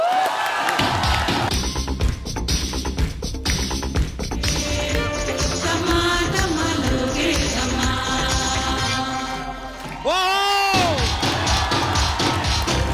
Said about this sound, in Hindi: जोरदार तालियां अनुराधा जी के लिए